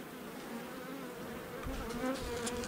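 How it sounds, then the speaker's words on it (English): Honey bees swarm over a hive frame covered in comb, a dense close buzzing that hums on without a break and grows slightly louder toward the end. "There's a beautiful frame, lots of nice comb on there, lots of bees."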